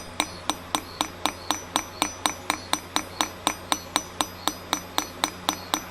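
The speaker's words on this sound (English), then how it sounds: "It starts hammering the actual graver." Rapid, evenly spaced metallic taps of a pneumatic push graver hammering on metal during hand engraving, about four per second, close and sharp with no talking.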